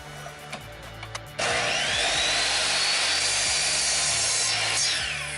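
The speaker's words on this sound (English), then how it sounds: "now we're going to switch so that the blade is angled the other way and make our other 45-degree angle" A power saw rips steadily through frame wood on a 45-degree angled cut, a loud continuous whine and rasp lasting several seconds after a few quiet taps.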